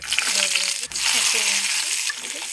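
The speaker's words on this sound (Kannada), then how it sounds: "ಸ್ವಲ್ಪ ಎಣ್ಣೆ ಹಾಕಿದ್ದೀನಿ, ಸ್ವಲ್ಪ ಸಾಸಿವೆ ಹಾಕೊಳ್ಳಿ" Mustard seeds crackle and pop in hot oil in a pan as a Kannada drumstick-leaf palya is started, giving a steady close sizzle with a brief dip partway, while a voice talks over it.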